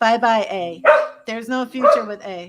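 A dog barks in a steady run of yappy, tonal barks with a few whiny yips mixed in. It sounds close and loud, and a voice carries on talking over it.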